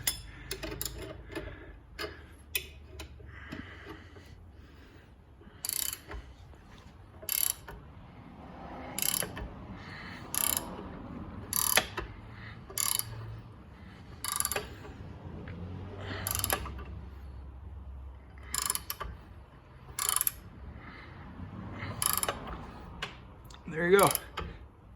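A new lower ball joint being cranked into a Can-Am Outlander, heard as a series of sharp ratcheting clicks and mechanical creaks in repeated bursts, close by with no talk.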